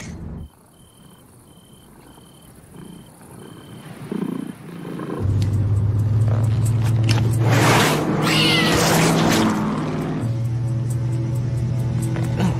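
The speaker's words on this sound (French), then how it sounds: "Chat noir à 200 mètres." A cat meows over a steady engine-like drone and dense insect chirring, fairly loud and close, with the background noise swelling midway.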